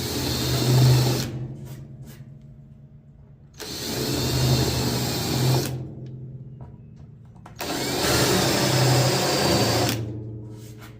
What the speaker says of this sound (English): So now we're going to countersink our holes just a little bit.